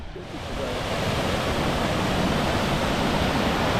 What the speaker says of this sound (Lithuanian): Ar pasakytumėte, kad tai labai įspūdingas krioklys?